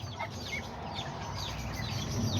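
Serama and Azteca bantam chickens cluck in repeated short calls, close and steady over a low continuous background hum with no voices.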